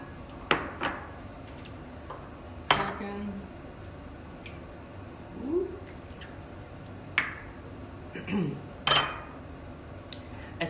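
Eggs cracked into a bowl for omurice in a home kitchen, several sharp, separate taps and clicks spaced a few seconds apart with faint shell and bowl sounds between them, fairly quiet and close.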